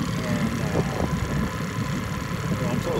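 A 1975 Evinrude 9.9 hp outboard motor idles with a steady, even drone and a faint watery hiss from the exhaust. A voice talks over the running engine.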